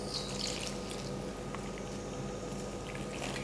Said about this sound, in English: We're going to add our water.